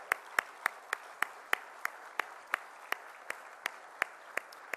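Sparse, evenly spaced single claps ring out at a conference event, roughly a dozen sharp distinct hits over a few seconds, fairly faint against a quiet room.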